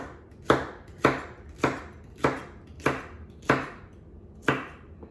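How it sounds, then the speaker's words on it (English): A knife chops okra into half-inch slices on a board, seven crisp evenly spaced thunks about once a second, close and clear in a quiet kitchen. "Now I cut them about a 1/2 inch thick, just like that."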